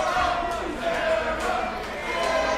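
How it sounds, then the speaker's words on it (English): A large crowd at a pro wrestling event in Miami, Florida roars and cheers steadily in an indoor arena, a dense wash of voices with swelling shouts throughout. "You hear the crowd getting behind Wilder here."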